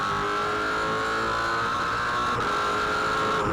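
V8 Supercars in a 2007 Queensland 300 race at Queensland Raceway, a steady engine drone with high tonal whine held throughout, a car running at speed on track.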